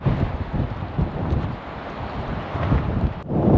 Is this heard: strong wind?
yes